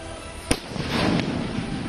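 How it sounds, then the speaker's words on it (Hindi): Firecrackers set off at night in a rural area to flush out wolves: one sharp crack, then a burst of crackling pops, loud and close, with no talking. "रात में पटाखे चलाए जाते हैं ताकि कहीं भेड़िया छुपा हो तो वो सामने आ जाए।"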